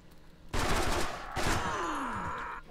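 Gunfire in the video game The Stalin Subway, a sudden loud burst of rapid shots followed by a second volley and a falling whine, ending with another sharp crack.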